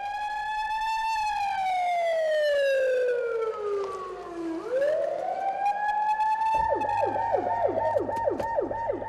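A loud emergency siren wails inside a tunnel construction site, warning of imminent blasting, its pitch sweeping down and back up, then shifting into a rapid repeating yelp pattern.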